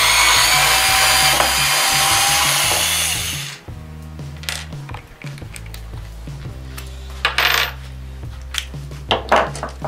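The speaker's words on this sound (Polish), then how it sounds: "Wykręcimy sobie tego wkręta." Parkside PAS 4 B2 cordless mini screwdriver backing out a screw, a steady high whirring motor for a few seconds, then stops, followed by scattered metallic clinks and taps of handling, close and isolated.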